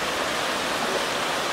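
Deep Creek in Great Smoky Mountains National Park rushing past as a steady, dense broadband wash of flowing water, continuous and fairly close, with no voices over it.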